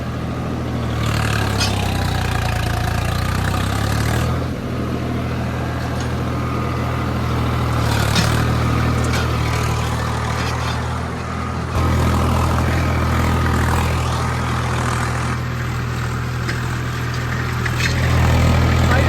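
A Swaraj 744 4x4 tractor with modified tyres runs steadily, its diesel engine a continuous low rumble with slight surges, close and loud with no talk.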